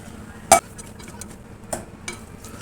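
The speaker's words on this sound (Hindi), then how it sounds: "अब मैं इसमें चीनी डालूँगी।" Sugar goes into a pan of cooking raw mango chutney, with one sharp clink of a utensil against the pan followed by softer stirring scrapes and a low background sizzle, no voices.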